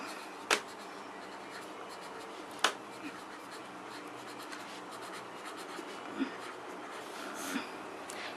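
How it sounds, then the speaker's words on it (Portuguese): Handwriting scratches faintly and steadily for several seconds, with two sharp taps early on and a few softer knocks later. "eu vou escrever aqui"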